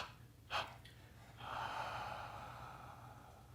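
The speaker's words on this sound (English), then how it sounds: "3 exhales, relax." Breathing during a guided meditation: a sharp short intake followed by a long, soft, drawn-out exhale, close and quiet over faint room hum, with no words spoken.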